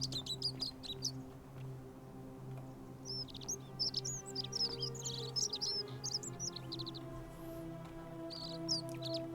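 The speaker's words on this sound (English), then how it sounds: "Some loud birds." Several birds chirp and tweet in quick bursts over a low, steady tonal hum in a video game, loud and close, with no talking.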